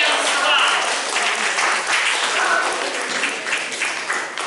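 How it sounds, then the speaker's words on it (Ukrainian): A concert audience claps warmly at an anniversary concert, a loud, full burst of sustained applause filling the hall from start to finish. "Наші оплески"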